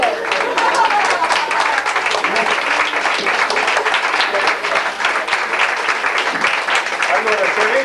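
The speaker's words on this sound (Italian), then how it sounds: "Poi un applauso perché la signora Merini ha sopportato Sergio Carlacchiani" Audience applause at an event honoring a friendship with poet Alda Merini, a dense, steady wash of many hands clapping close by for the whole stretch, with faint voices mixed in underneath.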